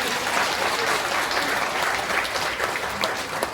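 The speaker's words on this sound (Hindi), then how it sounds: "सारे लोग जोरदार तालियों से उसका स्वागत करेंगे" An audience at a religious gathering breaks into hearty applause, a steady, full roar of many hands clapping that holds evenly for several seconds.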